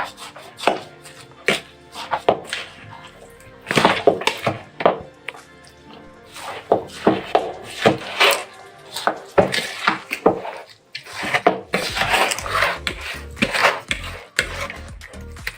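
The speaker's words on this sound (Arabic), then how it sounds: "كده انا قلبت الخليط كله عندي اهو" Spiced minced meat for hawawshi is mixed in a bowl, giving irregular close thunks and clattering scrapes of utensils against the dish, in bursts with short pauses.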